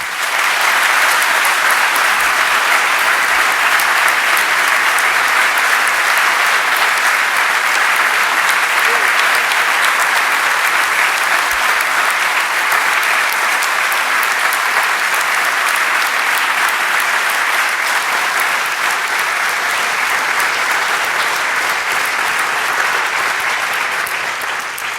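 A conference audience at a horse welfare event gives loud, sustained applause that fills the room evenly for the full stretch, with no voices breaking through.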